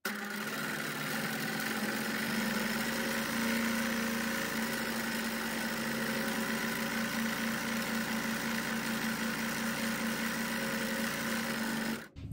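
A sewing machine runs stitching linen fabric, gathering it into ruffles for a fabric sculpture; a steady, close mechanical whir with a low motor drone holds for about twelve seconds, then stops abruptly at the end.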